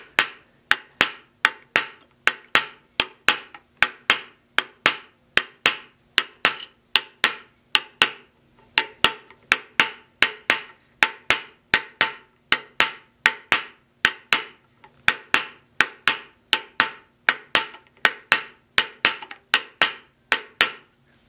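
Rapid, sharp metallic hammer blows ring out on the base of a raised copper beaker being work hardened, struck in quick bursts with brief pauses between runs, loud and close.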